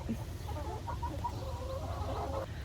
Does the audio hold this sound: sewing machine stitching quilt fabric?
no